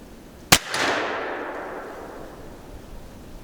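Single sharp rifle shot during a tungsten ammunition test, a loud crack with a long, fading outdoor echo and no talking.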